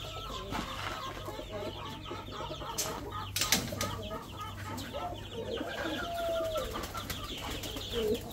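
Pigeons, among them sentinel pigeons, coo and flutter close by while grain is scattered for them. Soft throaty calls and scattered clucks repeat over a continuous background with a few sharp knocks and wingbeats, and no one speaks.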